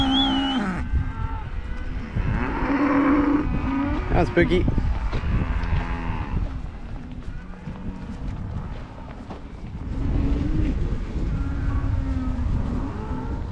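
In-calf heifers mooing on a farm, several loud drawn-out calls repeated through the stretch, with a person briefly speaking and some vehicle rumble underneath.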